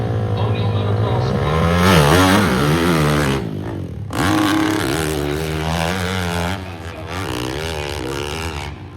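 A hillclimb motorcycle revs at the Devil's Staircase during the 2025 American Hillclimb national championship, its engine pitch rising and falling in loud, repeated sweeps while an announcer talks over it.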